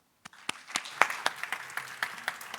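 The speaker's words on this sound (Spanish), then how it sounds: "Le damos un aplauso, por favor." An audience at the opening of an annual research, creation and innovation conference claps, starting abruptly with sharp, distinct hand strikes in an uneven rhythm that builds into steady moderate applause.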